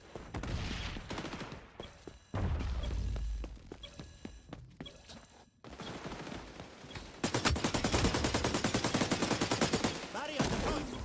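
Rapid automatic gunfire from an xDefiant match, repeatedly shooting at a deployed barrier, with bursts of closely spaced shots and thuds in a busy, layered game mix.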